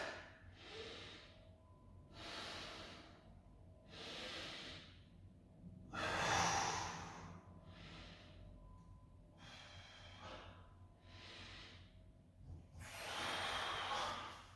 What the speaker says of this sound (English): And now I'm using that breathing to good effect.